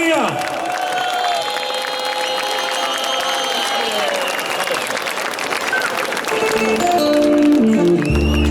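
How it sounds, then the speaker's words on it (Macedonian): An audience applauds firefighters and guests at an outdoor Ilinden village festival, a sustained, fairly loud wash of clapping and crowd noise, with a voice on a PA heard over it. "ќе ве замолам уште еднаш најголемиот аплауз за пожарникарите и за нашите гости"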